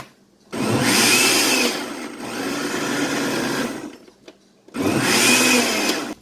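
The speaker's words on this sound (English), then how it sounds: "So I'll blend all this together. I just want to crush it" A blender crushing unripe plantain with onion for porridge, with two loud close whirring bursts separated by a short pause and a brief lower stretch in the first run, no talk.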